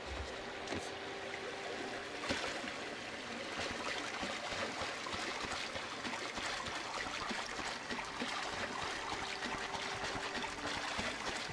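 Steady broadband rush of a waterfall in The Outer Worlds game, continuous and even throughout with a few faint clicks, no talk.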